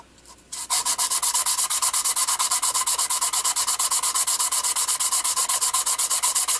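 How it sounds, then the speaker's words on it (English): Wood being sanded in fast, even back-and-forth strokes that rasp loudly and close up, with no one talking. A brief quieter scrape comes first, then the strokes run unbroken. "let's sand this out right here"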